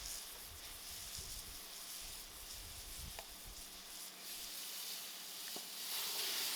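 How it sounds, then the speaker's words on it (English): Mutton frying in masala in a pot over an outdoor fire, a soft, continuous sizzle and hiss at a low level, with a few faint knocks and no voices. "And I'll allow this meat to fry out properly."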